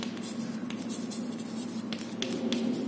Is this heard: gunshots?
no